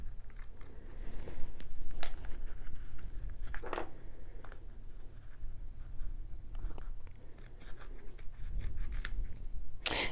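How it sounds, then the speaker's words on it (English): Scissors cutting through a sheet of cork fabric for earrings, giving soft, irregular snipping and rubbing strokes close up over a low background hum, with no talking. "I could trace around it, but I'm just going to cut around it."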